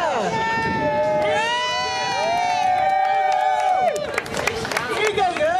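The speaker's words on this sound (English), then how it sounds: "now we're all going to be cheering Olivia!" People at the Liverpool Cathedral abseil cheer and shout 'yay' together, a lively burst of bright, high voices and whoops that carries on throughout.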